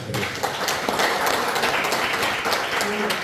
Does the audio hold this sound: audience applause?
yes